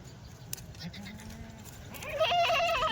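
Kathiawadi goats bleating close by, with a wavering, quavering bleat that swells toward the end over light background noise and faint voices.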